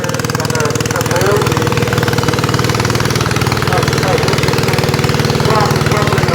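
A tractor engine at a spring fair in Laughton, East Sussex, pulling a sled that is driven by wheels on a trailer, drones steadily and loudly with a rapid, pulsing knock throughout.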